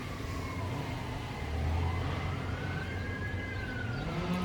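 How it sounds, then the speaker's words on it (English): Emergency vehicle sirens wail from a distance on a windy day, one long tone slowly rising and falling over a steady rumble of wind and background noise. No one speaks. "You hear a chainsaw in the background and sirens."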